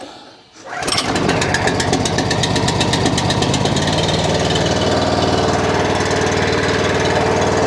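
A gas pressure washer engine starts on choke at medium speed and settles into a loud, steady, close rumble that continues without a break.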